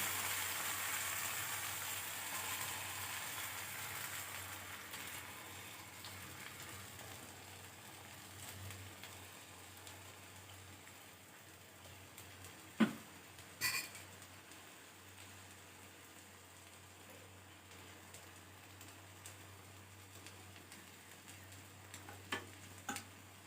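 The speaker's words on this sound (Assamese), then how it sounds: "ইয়াতে মই ফুটি লোৱা কণী দি দিছোঁ" Beaten eggs for an omelet frying in a pan, a quiet, steady sizzle that runs throughout, with a couple of brief sharp clicks partway through and no talking.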